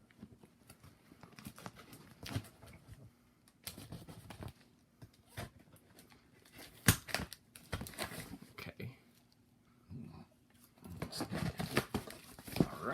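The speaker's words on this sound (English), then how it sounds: "So my dad's going to cut open the box." Scissors cut open a cardboard box, with bursts of snipping, scraping and tearing cardboard in irregular clusters, close and quiet.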